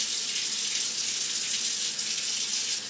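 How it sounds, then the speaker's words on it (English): Steady, loud rush of cold tap water running into a sink as wild turkey meat is rinsed beneath it, continuous and close with no pauses or voices. "Rinse it with nice cold water."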